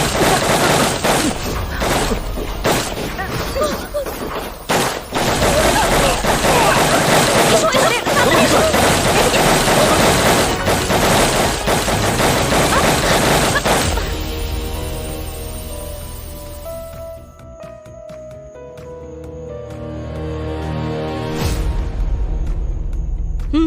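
Gunfire erupts in a CID TV drama shootout, a dense loud barrage of shots and booms that fades into ringing music and quieter tones near the end.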